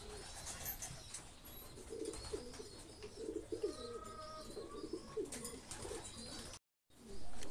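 Homing pigeons, just back from a 184-mile race out of Red Bluff, California, coo softly in a loft. Several low, rolling coos come close together, with faint rustling and chirps behind them.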